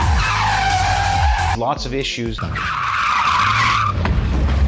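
A Gumpert Nathalie sports car spins out, its tires squealing in long, loud skids with a sharp engine rasp in between, while someone talks over it.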